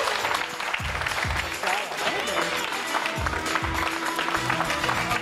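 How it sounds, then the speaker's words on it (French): A studio audience applauds in a steady wash of clapping while people talk over it. "un torrent d'applaudissements pour Mohamed, s'il vous plaît."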